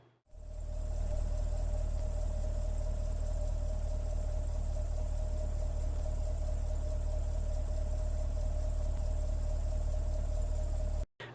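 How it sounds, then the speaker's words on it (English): A C8 Corvette engine, on a salvage car that may have been in an accident, idles steadily for about ten seconds with a constant drone and a high whine, running alone without speech. "the engine turns over, there's no knocking noises"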